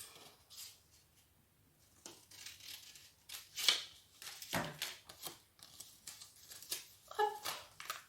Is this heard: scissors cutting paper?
yes